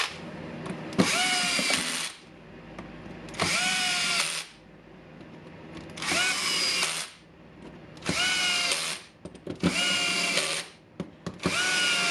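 A Milwaukee hammer drill with weak hammering runs in five loud, close bursts of a couple of seconds each, with short pauses and clicks between them.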